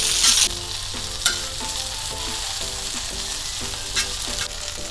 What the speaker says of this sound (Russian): Пару минут буквально перец обжарим.